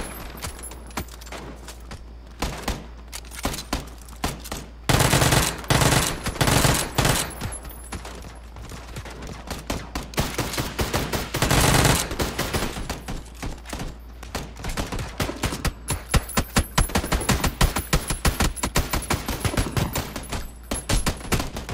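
Video game gunfire in PlayerUnknown's Battlegrounds, with loud bursts of rapid automatic shots and scattered single cracks going on and off throughout, dense volleys clustering at a few points.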